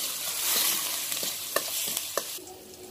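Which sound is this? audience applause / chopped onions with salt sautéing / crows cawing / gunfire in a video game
chopped onions with salt sautéing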